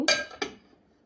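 Two sharp metallic clanks a moment apart as a metal pan is set down on a stove, ringing briefly before fading into quiet.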